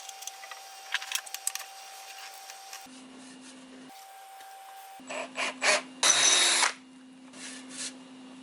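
A power drill drives bolts through the grip tape of a skateboard deck to fix inline skate frames, with short bursts of whirring and some loud grinding spurts, close up with no talking.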